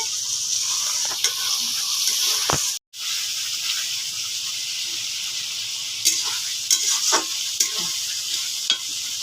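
Spice paste sizzles steadily in hot oil for a curry of elephant foot yam and curd, with soft spatula scrapes and stirring clicks cutting through; the frying drops out for a moment, then resumes.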